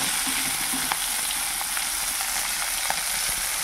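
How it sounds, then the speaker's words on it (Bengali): Hilsa fish frying in a pan in a home kitchen, a steady dense sizzle of hot oil running throughout with a few soft clinks, no talking. "এখানে উনি রান্না করছে ইলিশ মাছ ভাজা"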